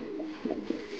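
Fantail (lakkha) pigeons in a pigeon loft, soft low coos coming in two or three short pulses over a faint background hum, close by.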